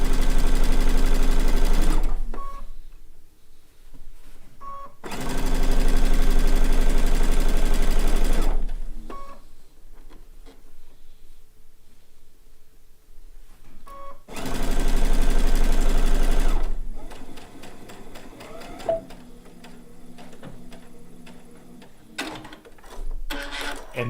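Sewing machine piecing a blue and white quilt top, three loud sustained bursts of fast motor whirring separated by quieter gaps with soft handling noises.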